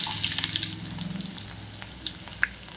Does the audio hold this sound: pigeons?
no